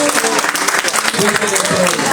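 A church congregation applauds at a worship service, steady dense clapping throughout with voices mixed in, fairly loud and continuous.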